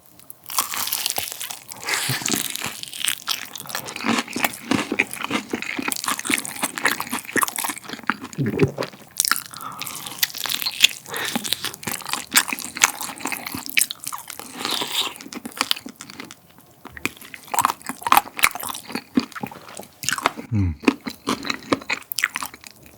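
Crunchy fried chicken from Chicken Plus is bitten and chewed close to the mic, with dense crackling crunches and wet mastication running almost continuously, broken only by brief pauses.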